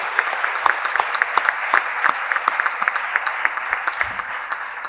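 An audience at a Spanish conference plenary session applauds three speakers: steady, dense applause from a sizeable crowd, with a few sharper nearby claps standing out, continuing evenly without speech.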